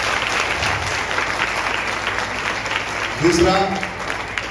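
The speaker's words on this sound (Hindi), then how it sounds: "सबके लिए तालियों से स्वागत करेंगे।" A crowd at a religious gathering applauds to welcome everyone. Dense, moderately loud clapping runs throughout, with a voice speaking briefly over it near the end.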